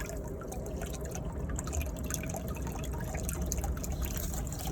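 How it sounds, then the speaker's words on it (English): A small pump circulates vinegar through an older tankless water heater during a flush, giving a steady watery trickle and dripping with a low continuous hum, unchanging and close. "we got the pump pumping through the vinegar through the system"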